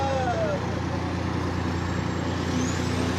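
A government vehicle moving along a guarded route during a protest security setup at Capitol Hill: a continuous, fairly loud roadway rumble with faint passing engine tones.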